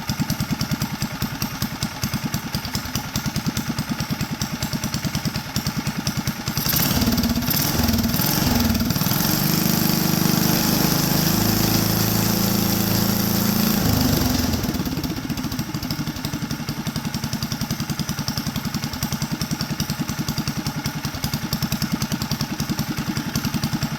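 A small vehicle's engine idles with a rapid, rattling putter, then revs up louder for several seconds in the middle before dropping back to a steady idle, all close by with no speech.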